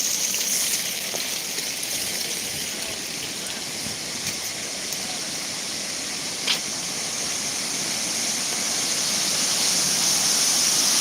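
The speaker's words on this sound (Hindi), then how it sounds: "आपके करीब से हम दिखा रहे हैं आपको झरने का दृश्य।" A waterfall on the Hasdev river pours over rocks worn and cut by erosion, a constant broad roaring rush heard up close, steady and loud throughout with no talking.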